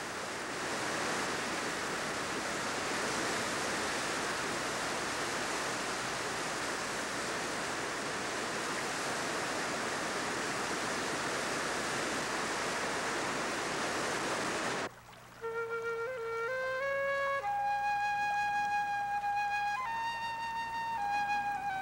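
Rushing water at Rennie's River falls pours as a steady, loud, dense roar for about fifteen seconds, then cuts abruptly to gentle melodic music.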